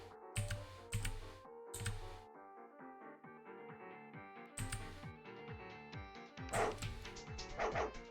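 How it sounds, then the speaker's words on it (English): Dogs in the video game The Case Book of Arne bark in sharp, loud bursts, a few yaps clustered at the start, middle and end, with a soft musical background running beneath them. "Some well-disciplined dogs we have here."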